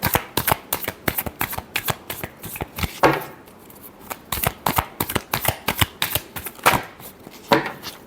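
Tarot cards being shuffled by hand in a rapid run of crisp riffling flicks, a brief pause near the middle, then more bursts of shuffling, close and clear with no talking.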